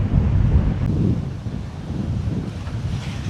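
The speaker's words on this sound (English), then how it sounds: "The forecast already mentioned stronger wind today." Strong wind of about 9 meters per second by the sea in Denmark, heavy gusting buffeting and low roar against the microphone, with surf faintly underneath and no one talking.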